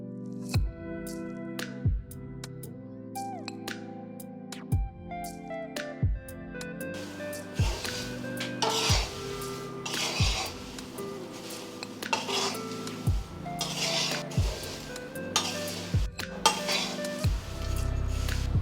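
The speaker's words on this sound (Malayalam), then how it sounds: "ഇനി ഇത് നമുക്ക് നല്ലോണം ഇളക്കണം." Flattened-rice aval upperi is stirred in a pan, with repeated metallic scrapes and clinks from a spoon against the pan, coming in an irregular rhythm and standing out close and clear.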